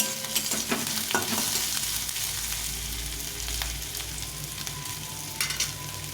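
Onion frying lightly in a pan, a dense steady sizzle with frequent stirring scrapes and clinks of a utensil, close and fairly loud, without speech.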